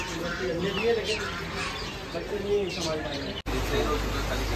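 Pigeons coo and birds chirp amid a busy crowd murmur at Crawford Market in Mumbai, with voices chattering nearby throughout and a brief dropout near the end.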